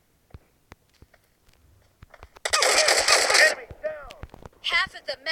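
Gunfire from the video game PUBG Lite, with sparse sharp shots early, then a dense burst of rapid fire and later crackling volleys, while voices speak over it.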